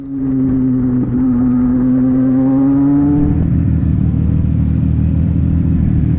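Race cars run laps on a circuit during an amateur race: a steady, whining engine note holds, then breaks into a louder, rougher roar as cars pass close.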